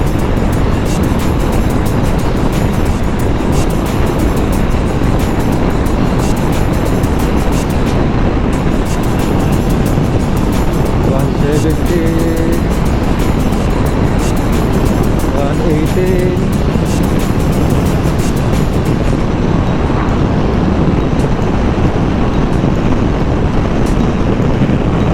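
An Aprilia SR GT 200 scooter runs at full throttle, its engine droning loud and steady under heavy wind buffeting on the microphone throughout.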